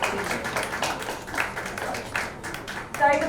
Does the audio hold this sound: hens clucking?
no